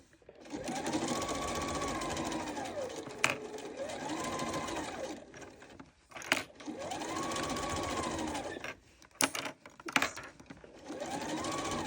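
A sewing machine stitches fabric for a zippered bag in steady runs, the motor whining up and down in several bursts with brief pauses and clicks between them as the needle is repositioned for backstitching; no one speaks.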